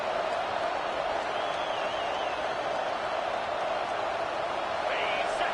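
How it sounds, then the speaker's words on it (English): Steady, dense stadium crowd roar fills the whole stretch, a constant loud wash of many voices with no breaks. "This crowd bringing the energy and noise early."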